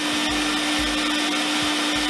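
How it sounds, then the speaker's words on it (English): A Sirena vacuum cleaner running steadily to dry out its hose, a loud continuous motor whine with a strong steady tone and faint rhythmic pulsing beneath, alone with no talk. "And it's going to dry out the hose."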